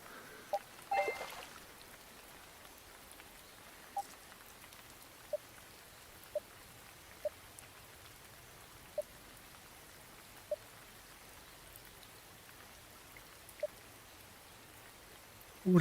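Rain in the VR fishing game Real VR Fishing falls as a soft, steady hiss, with faint isolated drips or clicks recurring every second or so throughout.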